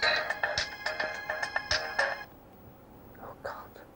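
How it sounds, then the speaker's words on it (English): A mobile phone rings for an incoming call, a bright electronic melody of quick repeated tones played loud and close, then falling silent, with faint whispered voices afterward. "Incoming call."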